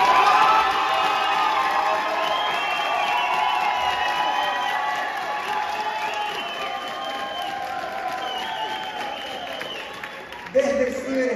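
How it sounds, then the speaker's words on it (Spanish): A studio crowd on a TV variety show applauds and cheers for a guest, a loud sustained wash of clapping with whoops and shouts, while a presenter talks over it. "Desde el ciberespacio también tiene su aplauso Angeline Brown."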